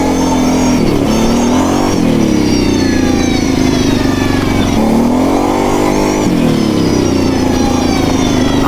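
A Kawasaki KFX700 ATV engine revs hard and whines loudly and continuously, pitch rising and falling in surges as the throttle is worked, close and dominant.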